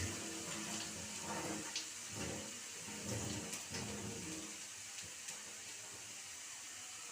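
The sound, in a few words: pouring a little water into the cooking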